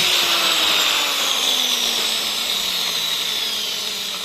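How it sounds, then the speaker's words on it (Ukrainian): A handheld angle grinder powered through an inverter under load runs steadily and loudly at close range, a continuous high whine with a slowly falling motor tone and no voices. "булгарка Працює. Працює."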